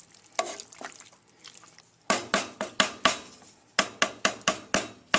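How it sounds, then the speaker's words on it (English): A spoon stirs cooked farro in a pot with a run of sharp, rhythmic scrapes and knocks against the side, close and fairly loud, after a softer, more irregular start. "stirred it around."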